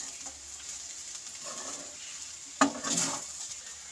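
A spoon stirs cashews and raisins into flattened rice pulao (chirer polao) in a pan, with faint scraping and soft rustling, then a sharper clink of utensil against the pan partway through.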